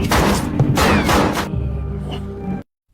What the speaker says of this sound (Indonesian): Polisi Green berusaha masuk ke dalam namun ia terkena tembakan di kakinya oleh Samsul.